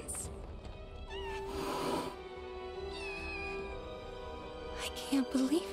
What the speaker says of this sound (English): Oh my God, there's so many. Kittens?